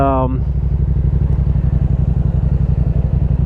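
A motorcycle engine idles or putters with a steady, fast low throb that sounds close and loud, and a brief voice is heard at the very start.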